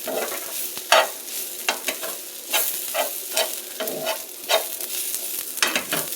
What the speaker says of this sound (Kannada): ಪುದೀನ ಕೊತ್ತಂಬರಿ ಎಲ್ಲ ಹಾಕ್ತಾಯಿದ್ದೀನಿ ಇದನ್ನು ಫ್ರೈ ಮಾಡ್ಕೋಬೇಕು